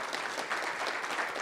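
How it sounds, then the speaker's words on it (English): Audience applause at a TiECon Florida business conference, a steady dense round of clapping that runs the whole brief moment at moderate loudness, with no voices over it. "Give him another round of applause."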